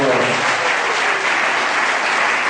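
A church audience applauds warmly and continuously, dense clapping filling the space at a steady, even level without pause.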